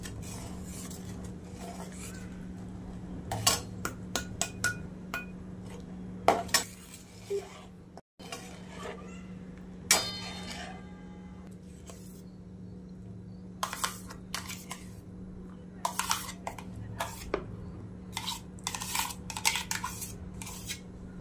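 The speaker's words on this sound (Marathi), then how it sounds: "ह्याच्यात आहे ना साखर टाकून हलवून घेऊयात आपण" Sugar is stirred into a mixture in a pot for cashew-almond modak, giving repeated metallic clinks and scrapes of a spoon against the pot over a steady background hum, with short bursts of clatter throughout; no speech.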